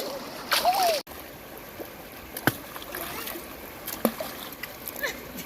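Water is splashed by hand at a village outing, in short bursts of splashing and dripping. Voices call out around and between the splashes.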